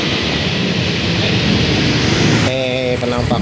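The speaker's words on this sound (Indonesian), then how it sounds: "ini kita akan tes semprot air pakai mesin" Steam pressure washer spraying water on a Vespa's turn signal accessories, a loud continuous hissing roar throughout with a brief tonal whine entering near the end.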